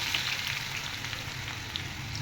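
Garlic frying in hot oil with mustard seeds and cumin, giving a steady, even sizzle with faint crackles that holds nearly constant throughout, close and moderately quiet with no voices.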